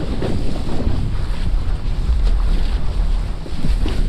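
Strong wind at sea, just outside a harbour while kitesurfing, buffets the microphone with a constant roar, with water rushing and splashing underneath, loud and close.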